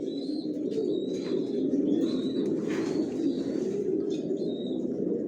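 Pigeons in a loft coo in low, soft, rolling murmurs that overlap continuously, with a few faint higher chirps and squeaks above, close by and steady throughout without speech.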